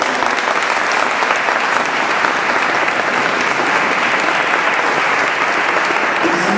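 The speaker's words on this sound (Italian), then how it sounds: "ringraziamo Dio con un applauso" A church congregation at a diocesan thanksgiving day gathering breaks into steady, full applause, many hands clapping evenly throughout without letting up.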